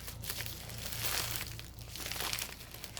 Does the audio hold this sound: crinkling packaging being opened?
yes